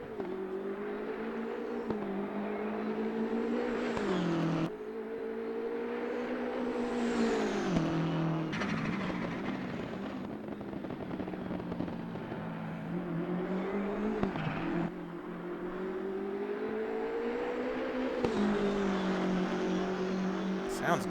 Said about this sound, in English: For a turbo motor, it sounds good. I like all the snarls and noises